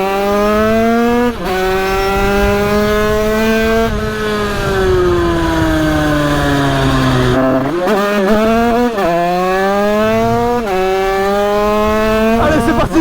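A 70cc scooter engine held at full throttle up a hill, its loud, close, high-pitched buzzing whine rising and dipping with brief drops as the revs shift.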